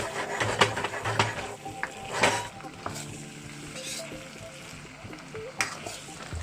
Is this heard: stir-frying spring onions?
yes